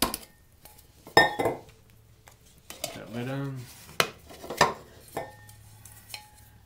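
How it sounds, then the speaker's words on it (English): Several metallic clinks and scrapes as a lid is handled and set onto a metal container, with a ringing tone in the middle; no talking. "Put that lid on."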